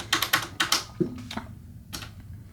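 Keys being typed on the mechanical linear keyboard of an Apple //e Enhanced computer, a handful of crisp clacks in quick bunches with short pauses, close and fairly clear with no talking.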